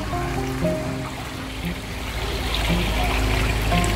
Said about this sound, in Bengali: উষ্ণ প্রসবন তার ঠিক পাশেই হচ্ছে যেটা বলছিলাম স্নান করার জায়গা এখানেও গরম জলে স্নান হচ্ছে